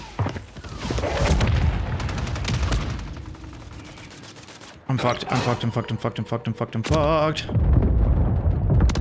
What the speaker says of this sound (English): please be the last of the mortars